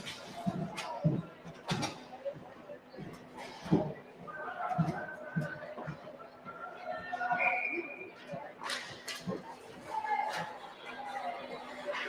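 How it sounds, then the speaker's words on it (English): Busy rink ambience at a youth 12U ice hockey game, with a referee's whistle for offsides among crowd chatter, scattered knocks and bangs, and a commentator talking throughout. "an offsides. Will get us a whistle and a stoppage"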